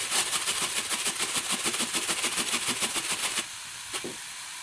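Food frying in a pan while making egg puffs, a steady close hiss and sizzle with rhythmic pulsing that drops to a quieter simmer near the end.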